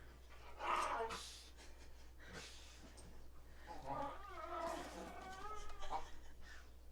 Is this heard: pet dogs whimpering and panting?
yes